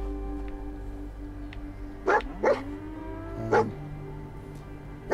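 A dog barks in Fallout 4, with three short sharp barks spaced apart and a soft whimpering whine between them, over a quiet humming game background.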